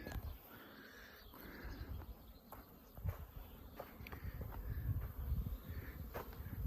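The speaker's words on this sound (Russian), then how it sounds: "пчелки літають, як хорошо дивіться" Bees hover and buzz around a field of young phacelia plants, a faint continuous drone with soft rustling and light footsteps outdoors, no one speaking.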